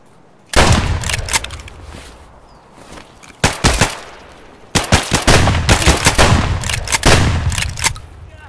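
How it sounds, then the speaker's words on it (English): Loud, close gunfire from the video game Escape From Tarkov, with an opening burst followed by several sharp shots and then long sustained automatic volleys, separated by brief lulls. "There's a dude shooting him"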